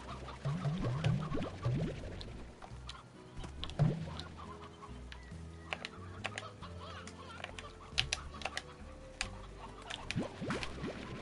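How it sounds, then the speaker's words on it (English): Chickens in the video game Slime Rancher, including painted hens, give repeated clucks and squawks in an excited burst, layered over game sounds and scattered keyboard-like clicks. "This chicken is going nuts here. It's doing the chicken dance."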